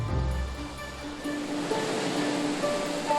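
Ocean waves surge and break nearby on the rough night sea of Christmas Island, a continuous rushing wash of surf with no voices.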